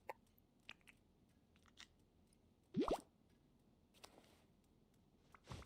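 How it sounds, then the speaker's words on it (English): Animal chomping loudly in Disney Dreamlight Valley, a short close burst of crunchy bites near the middle among faint clicks and small plops. "Loud chomping noises."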